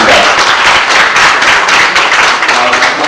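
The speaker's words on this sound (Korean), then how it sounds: "여러분 큰 박수 부탁드리겠습니다" An audience at a book launch event claps loudly and continuously, a thick, close wash of applause with no pauses.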